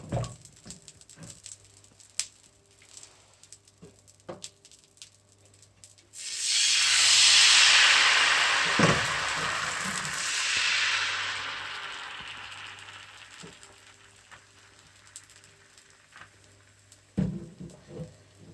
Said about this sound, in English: So I'll start by frying now.